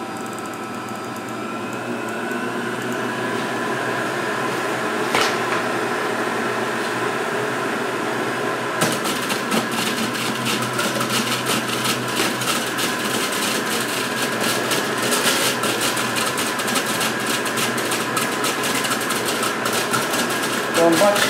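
A Breville Ikon juicer running, first on low then switched up to setting two, a steady motor whine that gets louder and grittier as strawberries are fed through it.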